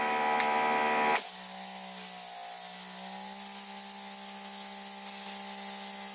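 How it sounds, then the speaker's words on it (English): An electric Greenworks 2700 PSI pressure washer fitted with a turbo nozzle starts spraying abruptly, a loud steady hiss of water over a constant motor hum that runs on without a break. "Let's try this turbo nozzle."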